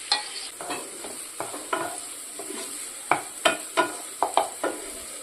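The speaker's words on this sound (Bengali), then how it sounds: "রসুন বাটা দিয়ে খুব ভালো মতো করে কষাতে হবে যতক্ষণ না পর্যন্ত কাঁচা রসুনের গন্ধটা চলে যায়।" Garlic paste and green chillies being sautéed in a pan for a pomfret fish curry, with a steady background sizzle broken by a series of sharp scraping stirs that grow louder and more frequent toward the end.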